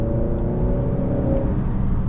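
A Honda Accord Sport with the 2.0T engine pulls hard in sport mode, a loud close rumble and whir from inside the car as revs build steadily, with no talking over it.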